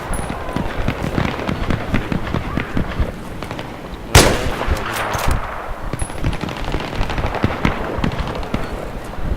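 Gunfire in a Battlefield 3 team deathmatch, rapid bursts of automatic fire crackling throughout, with one sharp, loud blast midway.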